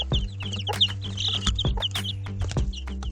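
A mother hen named Candy clucks to her chicks while feeding them corn crumbs, close and continuous soft clucking with high chick peeps scattered throughout, no voices.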